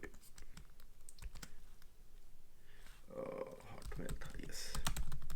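Keys clatter on a computer keyboard as an old Hotmail email address is entered into an online UK provisional driving licence application, a close run of irregular clicks with a voice speaking over the second half.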